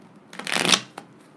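A deck of tarot cards is shuffled close by in one rising riffle of papery flutter, ending with a single soft tap as the cards settle.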